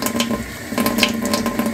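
A mudlarking find is washed under running water, a close, continuous splashing and trickling with small irregular bursts as the object is rinsed.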